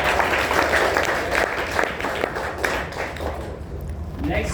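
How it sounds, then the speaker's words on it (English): Audience applause at a live event, dense broadband clapping filling most of the stretch and thinning toward the end, mixed with crowd noise and a voice. "huge round of applause for Unna"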